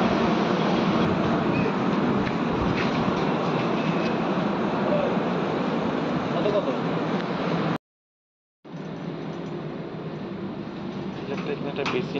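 The 13147 Sealdah–Balurghat express train running, a steady rumbling rattle of carriages heard from inside, broken by a brief silent cut before the clatter resumes.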